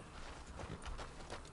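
Hooves from a horse in Red Dead Redemption 2 clop softly at a walking pace, a quiet, quick run of steps lasting under two seconds.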